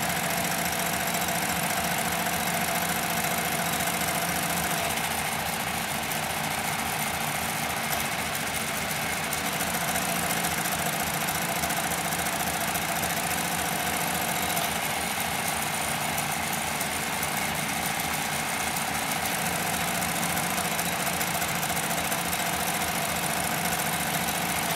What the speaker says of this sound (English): see that the machine's capable of sewing upholstery grade leather very fast